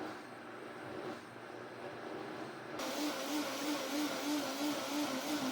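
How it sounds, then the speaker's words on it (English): A countertop blender mixes a raw salad dressing, starting as a steady whir that jumps louder and higher at about three seconds as the motor runs at full speed, with no talking. "So now I'm going to put it back on and let it blend again."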